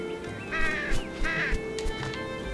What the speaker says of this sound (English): I just scared the bird away.